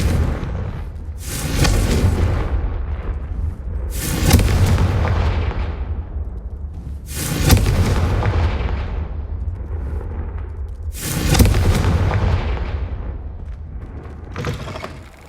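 Confringo spell explosions in Hogwarts Legacy erupt as four loud, booming blasts spaced a few seconds apart, each fading into a rumbling tail over steady game ambience.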